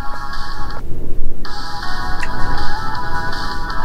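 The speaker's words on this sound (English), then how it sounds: "Is that a phone?" A phone ringtone rings loudly in a repeating electronic pattern, heard alone, with a short gap before the tone resumes.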